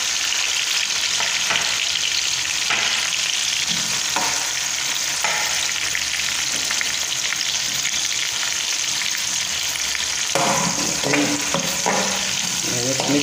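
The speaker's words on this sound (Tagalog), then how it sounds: "Pabrown lang natin konti yung ating bawang para matango siya." Garlic and onion sautéing in oil for stir-fried bitter gourd with egg and dried anchovies, a loud steady sizzle and crackle close up, with occasional scrapes and clinks of stirring and no talk.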